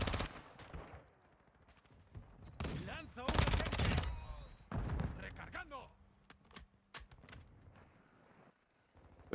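Submachine gun fire in the video game Modern Warfare II comes in rapid bursts and scattered shots, with thuds and other game effects mixed in. A player's voice talks over parts of the action.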